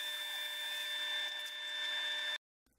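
Power sanding a turned and carved hickory bowl, a steady close whirring drone with a high-pitched whine that runs evenly for about two seconds, then cuts off abruptly into near silence.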